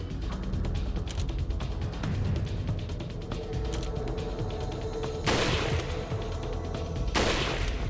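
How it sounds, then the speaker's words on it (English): Rifle shots in the Resident Evil 4 video game: two loud, sharp cracks a couple of seconds apart near the end, preceded by mechanical clicks and clattering game effects, with little speech. "Guess I can shoot the rifle a couple more times."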